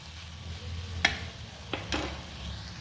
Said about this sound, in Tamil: இப்போ இந்த வெங்காயம் வதங்கட்டும்